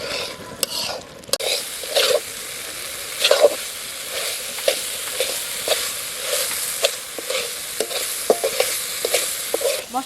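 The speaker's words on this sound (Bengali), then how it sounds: "এবার টমেটোটা দিয়ে ভালো করে কষিয়ে নেব" Tomato paste stirred and fried in a pan for a fish curry, a steady sizzle broken by repeated scraping strokes of a spoon against the pan, close and clear with no talking.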